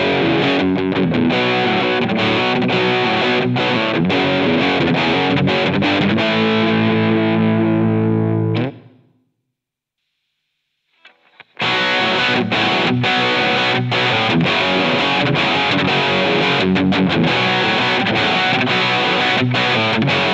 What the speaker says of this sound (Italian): Il pedale guadagna un po' in saturazione, compressione ed esce un suono pazzesco. Sentite anche che cattiveria tira fuori così.